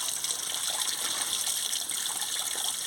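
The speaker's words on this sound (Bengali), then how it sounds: "আলু, বেগুন আর ঝিমা একসঙ্গে ধুয়ে নিচ্ছি।" Potatoes, eggplant and jhima greens are rinsed together in water, giving a steady, close splashing and gushing wash that continues throughout without a break.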